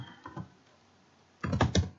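A few clicks on a computer keyboard: a soft isolated tap or two early on, then a quick cluster of louder keystrokes near the end, close and otherwise quiet.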